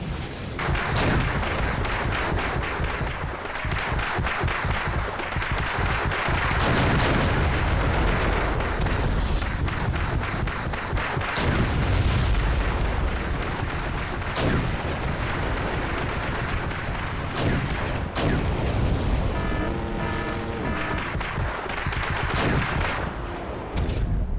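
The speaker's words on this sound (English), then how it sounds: "my late version T62 is engaging some targets" T-62 tank guns and other battlefield weapons fire in the strategy video game Wargame European Escalation, with dense, continuous booms, thuds and rattling bursts layered together at a loud, sustained level.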